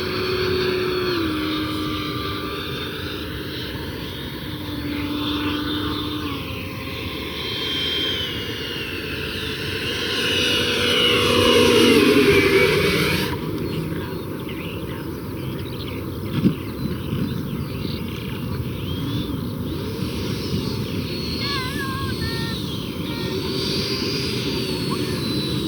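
Freewing Avanti RC jet plane flying past with a steady electric ducted-fan whine that swells around the middle as it passes close, then settles into a distant, even drone.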